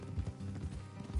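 Quick clip-clop of horse hooves trotting on hard ground in the video game Red Dead Redemption 2, a brisk uneven rhythm, fairly quiet and close.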